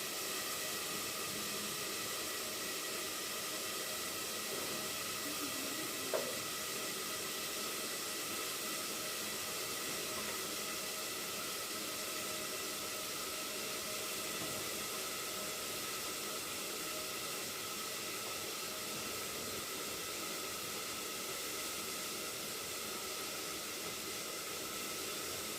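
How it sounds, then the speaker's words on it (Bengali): Water heating in a covered pot on a stove while soybean chunks and papaya fry nearby, giving a steady, even steam hiss that stays level for the whole stretch with a single faint knock partway through. "গরম জল সেদ্ধ বসিয়ে দিলাম"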